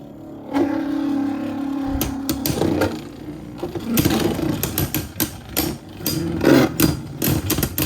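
Beyblade Burst Chain Kerbeus spinning top scraping around a plastic stadium, a continuous buzzing whir with repeated sharp scrapes and clacks, fairly loud and close throughout.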